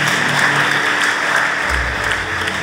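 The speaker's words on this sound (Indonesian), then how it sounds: "Tepuk tangan untuk Tuhan." Applause during a church worship service, a dense crowd clapping steadily and loudly for about two seconds before thinning out.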